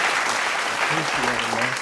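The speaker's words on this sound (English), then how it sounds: "Everybody give him a round of applause." A small studio audience claps for a guest on a late-night talk show, a dense, steady patter of applause with a voice speaking over it.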